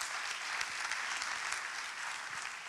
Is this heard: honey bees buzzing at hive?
no